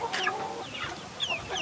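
Laying hens cluck and squawk up close in a farm setting, a continuous busy stream of overlapping clucks and short rising calls with no voices.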